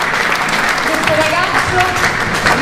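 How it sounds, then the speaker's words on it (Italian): Crowd at an outdoor clarinet concert breaks into sustained, close applause, with voices and a few faint tonal sounds audible beneath the clapping. "Facciamo un applauso"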